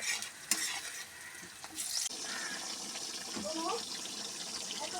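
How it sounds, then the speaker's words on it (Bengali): Meat cooking with spices in a pan, a steady broad sizzle with stirring scrapes and a brief watery pour near the start, close and continuous with a voice faintly in the background. "মশলা দিয়ে তারপর আমি মাংসটা দিয়ে কষিয়ে নেবো"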